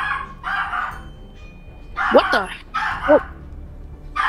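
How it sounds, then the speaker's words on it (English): A pet dog barks several times in a room, sharp bursts with yelping tails standing out near the mic between stretches of a person talking. "Yeah, it's my dog."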